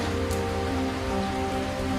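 Rain falls steadily in cold weather over a farming village, a dense continuous hiss with a low tonal hum beneath it. No voices are heard.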